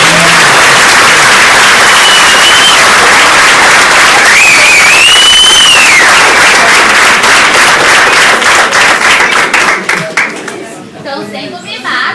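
An audience at a pastor's lecture claps in a long, loud, dense burst of applause with a shrill whistle partway through. Faint chatter runs underneath before the clapping thins and fades near the end.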